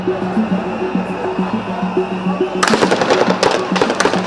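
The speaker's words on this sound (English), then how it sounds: "Now we've got the gunshot, we can get the shooter." Gunfire during chaotic unrest at Kenya's parliament: a sudden loud crack about halfway through, followed by a rapid series of sharp, close reports over a steady droning hum.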